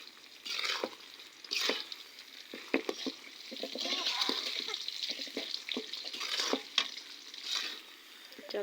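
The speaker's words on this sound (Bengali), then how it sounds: "তো এটাকে লাল করে এবার ভেজে নিব হালকা লবণ দিয়ে।" Dried red chilies fry in hot oil for a sweet-sour-spicy tamarind pickle, a steady close sizzle broken by repeated scraping stirs and light clatters, with no voices.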